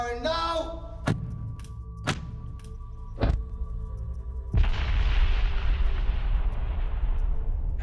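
Bangalore torpedo explosive detonated by Royal Engineers: a few sharp distant thumps, then a single deep blast that rolls into a long, sustained rumble, loud and open-air.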